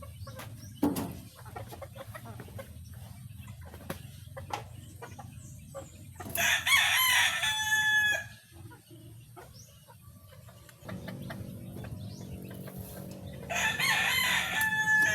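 A young gold rooster, a stag, crows twice in strained bursts, between soft clucks and scattered farmyard noises close by.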